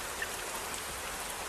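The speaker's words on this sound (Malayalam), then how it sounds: "ഇതെനിക്ക് വേണ്ടി പെയ്യുന്ന മഴയാ" Rain falls in a soft, even hiss, a quiet continuous patter with no voices or other sounds mixed in.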